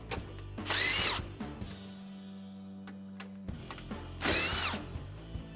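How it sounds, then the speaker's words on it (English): A power drill spins out 10mm headlight bolts on a 2012-2015 Toyota Tacoma, two loud whirring bursts with a quieter mechanical hum between them, close up and with no talking. "At this point, you can remove the two 10mm bolts holding on the top of your headlight."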